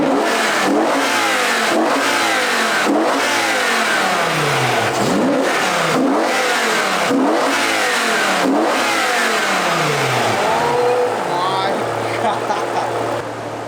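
A BMW E60 M5 V10 engine revs repeatedly through carbon intakes and plenum, loud and close, with rhythmic rising and falling bursts before settling toward idle.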